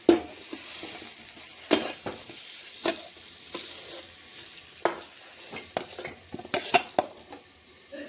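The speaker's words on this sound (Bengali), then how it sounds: "এবার আমি কুকারে ঢেলে দিচ্ছি মাংসটা, কষানো মাংসটা।" Cooked, browned mutton curry scraped and poured from a wok into a pressure cooker for a home mutton curry, with repeated sharp metal clanks of a spoon against the pan amid soft wet stirring and shuffling.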